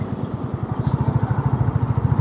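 A motorcycle on a solo ride through Punjab and Himachal thumps along with a fast, regular low engine pulse, close and steady, the beat growing stronger partway through.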